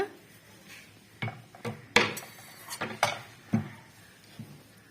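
A spoon stirring chayote (chow chow) kootu in a metal pot, producing about eight separate clanks and scrapes at an uneven pace, close and fairly quiet, with no voices.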